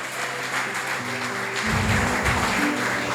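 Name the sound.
church congregation applauding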